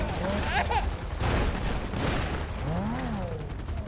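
Gunfire in the video game GTA V, rapid volleys of shots at moderate loudness mixed with warbling siren-like tones and game noise, while voices talk over it.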